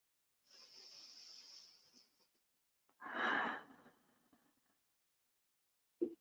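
Slow breathing during a restorative yoga session: a long, soft airy inhale of about two seconds, a pause, then a louder, fuller exhale that fades out, close and quiet.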